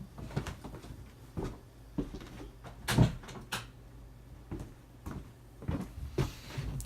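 A door or cupboard-style door bumps shut with one solid thud among several softer knocks and rattles, close by and fairly loud against a quiet room with no speech.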